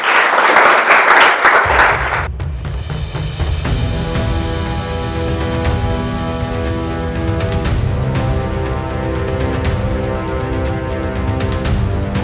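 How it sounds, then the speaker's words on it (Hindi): Students in a class clapping for themselves, a loud, dense burst of applause lasting about two seconds before giving way to sustained tonal sounds. "तो क्लास स्टार्ट होने से पहले एक बार अपने लिए ताली तो बजा लीजिए"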